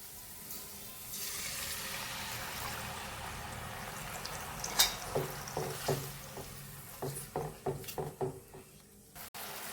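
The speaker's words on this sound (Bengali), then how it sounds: "এভাবে কিছুক্ষণ একটু নেড়ে নেব।" Spice paste, with Kashmiri chilli powder, salt and water, stirred in a hot kadai for chicken 65, giving soft sizzling and a run of short scraping and clinking strokes that grows more frequent toward the end, close and fairly quiet.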